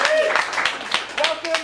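Audience applause and cheering at a family-friendly improv comedy show, a short burst of clapping mixed with voices and whoops from the crowd.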